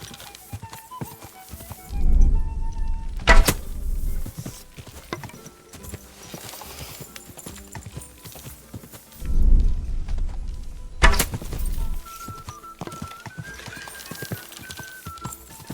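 Horse hooves clip-clopping in the video game Kingdom Come Deliverance 2, a steady close rhythm of hoofbeats with two louder bursts of movement and clanking tack, over soft game ambience.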